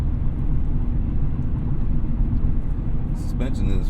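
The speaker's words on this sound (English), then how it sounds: "So cruising around that 40 in fifth gear, I'll let you hear the road noise" Steady low road rumble inside a 2024 Mazda Miata ND3 Club soft top cruising at about 40 mph in fifth gear, a constant broadband drone with a brief higher sound near the end.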